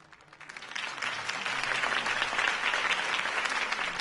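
Applause from a large crowd in a video game swells up and holds steady, a dense wash of clapping with no voices standing out.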